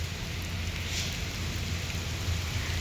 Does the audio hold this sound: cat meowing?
no